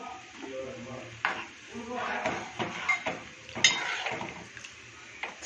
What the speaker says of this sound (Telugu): శనగపిండి కలిపేసుకొని